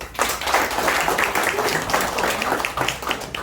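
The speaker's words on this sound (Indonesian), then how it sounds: "Boleh minta tepuk tangannya?" Audience applause during a health product presentation, a close, fairly loud patter of hand claps that carries on steadily from start to finish.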